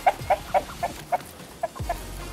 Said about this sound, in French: Donc là on a des poulettes avec un jeune coq.